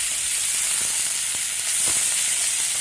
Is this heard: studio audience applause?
no